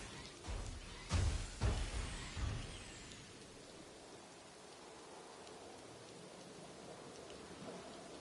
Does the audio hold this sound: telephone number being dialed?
no